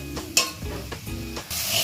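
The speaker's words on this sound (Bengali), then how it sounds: "ভালো করে একটু নেড়ে কষে দিতে হবে" Spice masala with a splash of water, stirred and fried in a pan for a pabda fish dish. A spatula scrapes against the pan in a few distinct strokes over a soft, steady sizzle.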